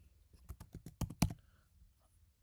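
A computer keyboard being typed on: a quick burst of about ten crisp, close key clicks, then a pause and one last faint tap in a quiet room.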